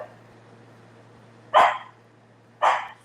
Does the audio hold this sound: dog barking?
yes